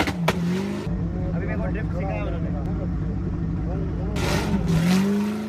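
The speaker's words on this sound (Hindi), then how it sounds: "आप उससे आइडिया लगा लो कि इस गाड़ी की साउंड कैसी है" A car engine revs and drones steadily, its pitch rising and falling as the car drifts. The sound is close and continuous, with voices talking over it.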